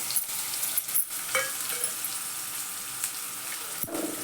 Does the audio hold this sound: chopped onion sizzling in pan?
yes